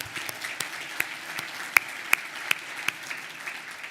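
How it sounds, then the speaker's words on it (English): Applause from a luncheon audience at a reproductive rights event, a soft bed of clapping punctuated by several loud, sharp claps from nearby hands at irregular intervals. "the round of applause for the staff of Planned Parenthood of Arizona"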